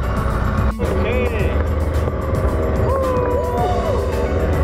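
A small boat engine runs with a steady, loud low drone throughout, carrying a driver and passengers at Wadi Ash Shab in Oman; a voice speaks briefly over it.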